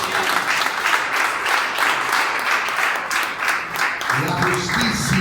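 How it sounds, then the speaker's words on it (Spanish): A church congregation bursts into sustained applause, many hands clapping together in a loud, steady wash that lasts several seconds, with some voices mixed in toward the end. "¿Cuántos pueden aplaudir a Jesús?"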